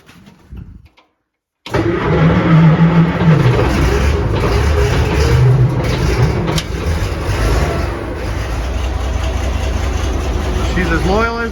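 A vintage Allis Chalmers TL-14 loader's engine cranks over after a brief quiet moment, catches and settles into a loud, close, rough-running rumble. It idles unevenly, and a voice speaks over it at times.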